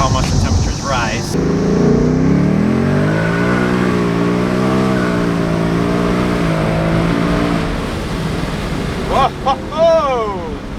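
An ESS supercharged Ford Mustang fitted with a G4 intercooler accelerates hard on a pull, its engine note climbing loud and close for several seconds in a rising rev before easing off, with wind rush around it.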